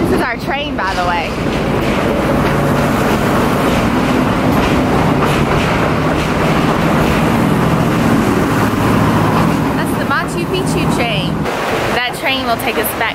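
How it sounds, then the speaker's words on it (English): A train rumbles and clatters along the rails near Cusco, Peru, loud and close, in a continuous wash of noise while people talk faintly underneath. "this is our train, by the way."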